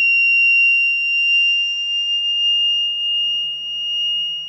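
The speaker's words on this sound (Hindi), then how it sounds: "धीरे धीरे इसका टेम्परेचर कम हो रहा है तो बजर ऑलमोस्ट ऑफ हो चुका है" Buzzer of a thermistor-based fire alarm logic circuit sounding as a steady, piercing electronic tone that holds continuously while fading slightly as the sensor cools, with faint low background hum beneath.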